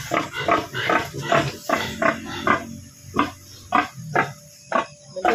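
Pigs squeal in repeated loud, harsh bursts at close range with insect buzzing in the background on a Filipino farm, and no one speaks.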